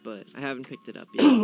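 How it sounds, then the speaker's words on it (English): A single cough bursts out at the end, right after a man's casual speech during a relaxed esports chat show, loud and close to the microphone. "that was a cough"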